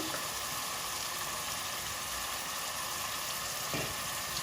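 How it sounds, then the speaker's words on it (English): Lamb pieces frying in garlic and ginger paste for a railway lamb curry give a steady, close sizzle with faint stirring, continuous and even throughout without talk. "we're going to seal the lamb in that garlic and ginger paste."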